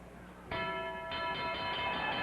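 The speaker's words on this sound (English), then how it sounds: "after the bell had sounded" A boxing ring bell at a 1956 fight between Carmen Basilio and Johnny Saxton rings at the end of the tenth round, sharp tones standing out over a steady crowd roar, with a second strike following about half a second later.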